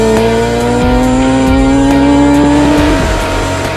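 A land speed record racing vehicle screams past 150 mph, its loud engine tone climbing steadily then dropping sharply as it shifts gears near the end, with heavy wind roar underneath.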